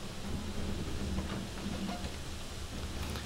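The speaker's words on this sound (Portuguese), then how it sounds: "Espero que o barulho da chuva não esteja muito incômodo para vocês" Rain pours steadily outside during a heavy storm, making a faint, continuous wash of noise with a low rumble underneath and no clear individual drops.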